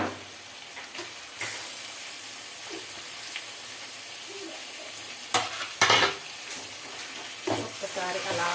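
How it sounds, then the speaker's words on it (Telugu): Chicken pieces frying in hot oil with onions in a pan, a steady sizzle with scraping stir strokes and louder bursts as the pieces hit and get turned over, heard close and without talk. "ఇప్పుడు ముందుగా కడిగి పెట్టుకున్న చికెన్ని నేనైతే వేసేస్తున్నాను"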